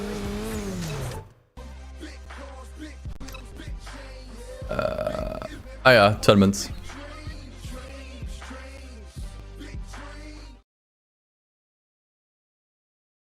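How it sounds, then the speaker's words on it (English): A car engine in a PSP racing video game, sounding like an RX-7, revs and whines in rising and falling pitch sweeps, with a louder burst in the middle, as a voice speaks briefly at the start. "Car sounds like an RX-7."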